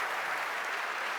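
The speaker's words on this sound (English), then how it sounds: "Guys, give Peggy a huge round of applause." Audience applause at a leadership conference in Athens, a dense, steady patter of many hands clapping throughout, loud and sustained with no voices over it.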